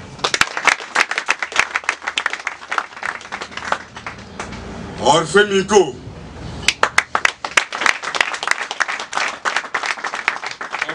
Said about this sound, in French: Donc je veux qu'on applaudisse pour lui.